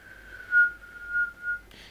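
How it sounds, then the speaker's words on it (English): A single steady whistled tone, held for about two seconds with slight swells in loudness, ending in a soft breathy click. "So start with whistle, so you're whistling"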